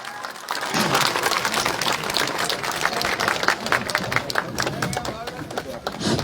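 A crowd at an AAP political rally in Thangadh, Gujarat, welcoming leader Isudan Gadhvi, claps in a dense, sustained burst of applause close by, with voices mixed in underneath.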